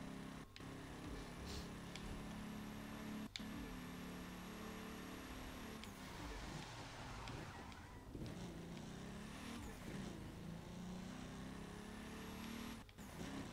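A car accelerating with nitro boost in The Crew 2 racing game, a steady engine drone running continuously at low level, with a few sharp clicks and brief whooshes over the top.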